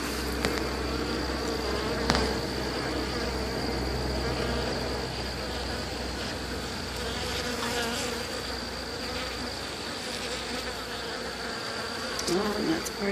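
Honeybees buzz continuously at a beehive entrance as foragers bring in pollen, a dense, close drone with individual bees whizzing past.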